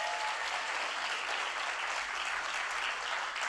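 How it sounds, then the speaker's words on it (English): People clapping at a White House event, a dense, even burst of applause from a gathered crowd, steady and uninterrupted, heard at a moderate distance without talk. "Look at the people clapping"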